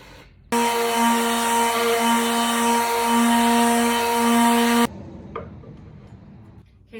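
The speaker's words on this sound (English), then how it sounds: "I noticed there were a couple scratches on it. I'm going to sand it lightly." An electric sander works over an old wooden porch swing, giving a loud, steady motor whine for about four seconds before cutting off abruptly, leaving quiet background noise.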